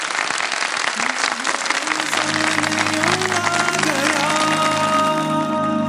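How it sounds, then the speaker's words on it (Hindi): Studio audience applauds three quiz contestants on a Ramadan TV quiz show, a loud, dense burst of clapping that continues throughout with music rising underneath. "तीनों के लिए बहुत सारी तालियां।"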